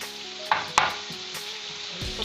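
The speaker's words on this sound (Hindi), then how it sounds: "इसके अंदर टमाटर ऐड कर देंगे" Tomatoes go into a cabbage and chicken dish frying in a pan, with a soft, steady sizzle broken by a few close clinks and stirring scrapes.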